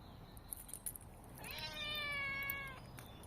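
A cat meows loudly near a shelter, a single drawn-out harmonic cry that rises and holds for about a second over steady background noise.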